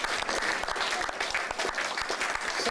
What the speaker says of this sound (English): Big round of applause on Brian.